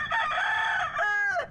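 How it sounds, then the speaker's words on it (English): A rooster from a cockfighting ring crows close by, one long, loud call followed by a brief second rise, with no talk. "hundreds of roosters, part of a cockfighting ring that led to 34 arrests across the U.S."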